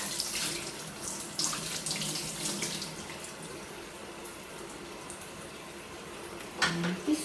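Tap water runs steadily over a makeup brush being rinsed at a sink, a soft continuous splashing with occasional louder spatters, faint and close with no voices.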